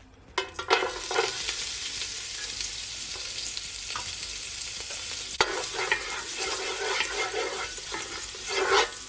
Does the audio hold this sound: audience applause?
no